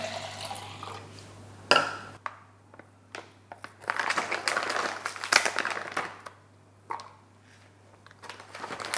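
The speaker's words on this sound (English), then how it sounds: "I'm going to fill that up with 1 cup of water." Water is poured into a measuring cup for homemade almond milk, heard as close splashing and bursts of running liquid broken by short pauses and a few sharp clatters.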